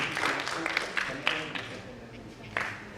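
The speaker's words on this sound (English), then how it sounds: "Let's clap for him, please." Clapping from an audience at a Kenyan essay competition award ceremony, a light, scattered patter of hands with a few sharper claps, moderate and somewhat distant, over a roomy background.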